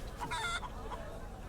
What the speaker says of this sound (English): Chickens!